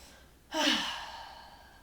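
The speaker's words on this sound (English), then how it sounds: "Take a few deep breaths." A single deep breath drawn in and slowly let out, soft and close, swelling quickly then tapering off gently during a guided relaxation session, with no talking.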